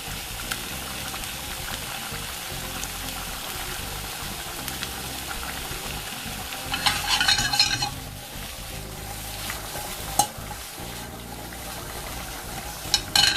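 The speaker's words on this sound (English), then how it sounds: "Constantly stirring the lentils just to make sure we have no stickage, no catching." A spoon stirs lentils in a pot with continuous scraping and a soft bubbling hiss, swelling briefly midway, with a few light knocks against the pot.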